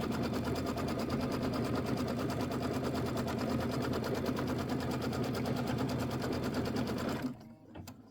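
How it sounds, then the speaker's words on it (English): A sewing machine runs a quilting stitch on a Christmas wall hanging, whirring loud and steady for about seven seconds before stopping abruptly, leaving a few faint handling sounds. "now we're going to do the quilting stitch. Just go ahead and hit start and let it quilt."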